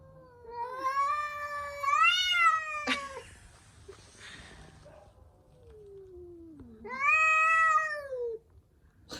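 Two cats caterwaul at each other in a rural village yard, long rising and falling yowls, one drawn-out wail, a pause with a low growl, then another loud howling burst, close by.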